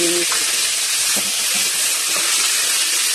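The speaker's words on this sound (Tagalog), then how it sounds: "I-prito muna natin" Native chicken sizzles loudly in hot oil, a dense continuous crackle and hiss close by, with a faint voice briefly underneath.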